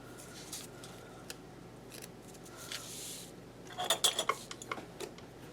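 Scissors snip through a planner sticker in a quiet room, a short burst of several crisp, close cuts after a few soft handling rustles.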